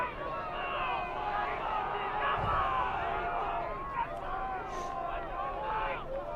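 Crowd murmur from spectators on a hillside at a high school football game, Bobcats versus Souhegan, a steady outdoor babble of many voices with scattered cheers and shouts, continuous and moderately loud throughout.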